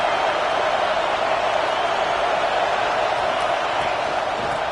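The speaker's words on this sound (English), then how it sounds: "Listen to this crowd just shaking the girders of this place, trying to help their defense." A college football stadium crowd roars as the home fans try to rattle the visiting offense, a steady, loud, wall-like din that fills the whole stretch without easing.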